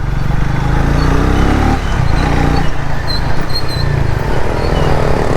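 A Triumph Speed T4 motorcycle engine drones steadily and loudly while riding, with continuous wind rush and road noise and no break in the sound.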